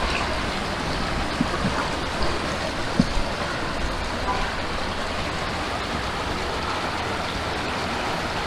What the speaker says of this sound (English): Beautiful stream, hear the sound of water.